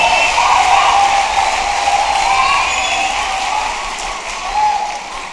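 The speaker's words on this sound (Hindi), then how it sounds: "एक बार जोरदार तालियां उठा दे हवा में" An audience at a Hindi comic poetry gathering at IIT Delhi applauds, with sustained crowd clapping and cheering and a swell near the end.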